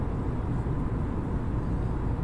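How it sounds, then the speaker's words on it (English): Airbus A330 jet engine in the MSFS 2020 flight simulator, heard from behind the engine: a steady, even broadband roar with a deep low rumble, continuous and unchanging throughout. "Whereas if you're behind the engine, you get a nice sound like this."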